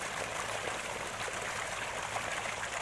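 Water flows steadily into a farm field, a continuous loud rushing and trickling close by, with no voices.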